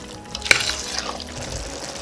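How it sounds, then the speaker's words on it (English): Coconut milk going into a pot of Trinidad chicken pelau, a short liquid splash with a sharp clank near the start, then soft stirring and faint frying underneath, close and brief, with no voices. "and then I'll add the coconut milk"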